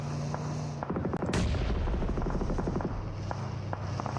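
Gunfire in a PUBG Mobile esports match: a sharp burst of shots followed by a rapid series of quick cracks, then scattered fainter shots in the background of the video game.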